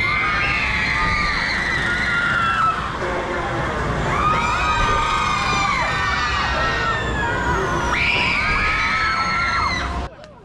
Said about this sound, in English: Screaming competition, probably deafening everyone on the ride.